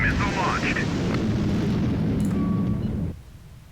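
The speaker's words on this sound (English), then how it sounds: "Missile launched." A missile launching in the naval strategy game HighFleet: a loud, sustained roaring whoosh fills the first three seconds, then cuts off abruptly, leaving a faint low tail.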